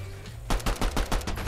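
Rapid pistol gunfire in the Fortnite video game, a quick burst of about six loud close shots in even succession after a short quiet lead-in.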